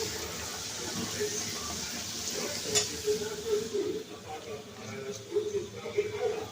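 Panch phoron spice tempering sizzling in hot oil in a home kitchen, a steady crackling fry that swells with popping spurts while someone talks over it.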